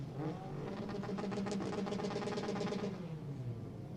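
A BTCC touring car pulls away from the practice start at Snetterton, its engine note climbing in steady revs and then falling off, loud and close throughout with no talking.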